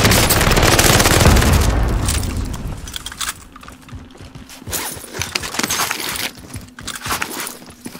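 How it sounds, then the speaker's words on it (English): A frag grenade goes off in a Caldera match of a shooter game. One loud, deep blast rumbles and fades over a few seconds, then scattered gunfire and impacts follow at a distance. "Tossing a frag."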